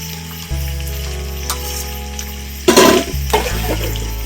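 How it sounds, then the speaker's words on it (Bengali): Hot water is poured into a pan of sizzling dahi chicken on the stove, giving a steady frying sizzle followed by a loud, brief hissing burst as the water hits the hot pan. "আর একটু জল দিয়ে দিয়ে দেবো, একটুখানি দিয়ে দেবো গরম জল,"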